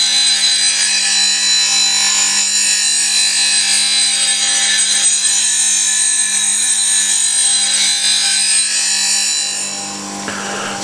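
A steel blade grinds against a spinning sharpening wheel in a long, loud, unbroken rasp that holds steady and then eases off near the end.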